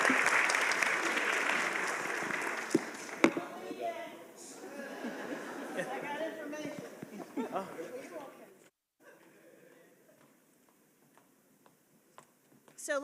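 Audience applause for a panel at a community justice summit, a loud sustained round of clapping that fades out around the midpoint, leaving quiet room noise with a few scattered claps and a voice beginning to speak.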